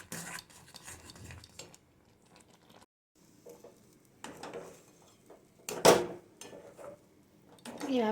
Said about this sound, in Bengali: এভাবে নেড়ে চেড়ে একটা ডোয়ের মতো করে নিতে হবে।